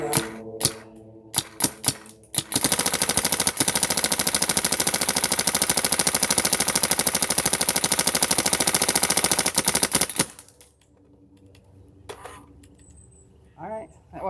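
A Smart Parts Ion paintball marker, run at 2,000 psi, fires a long rapid burst of sharp, loud clattering shots lasting several seconds, preceded and followed by scattered single pops and mechanical clicks, close to the mic.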